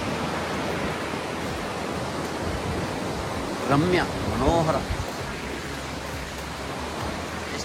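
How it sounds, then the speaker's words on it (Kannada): Shimsha waterfall at Shivanasamudra roaring as a constant broadband rush of falling water, steady and enveloping, with someone briefly speaking over it. "ಎಲ್ಲಿ ನೋಡಿದರೂ ಅಲ್ಲಿಯೂ ಬರೀ ಜಲಪಾತ."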